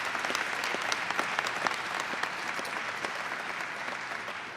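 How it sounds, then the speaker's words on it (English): An audience at an energy investment announcement in Pittsburgh, Pennsylvania, applauds in a dense, continuous wash of many hands clapping, steady in loudness throughout with no voices rising above it. "You should clap for that."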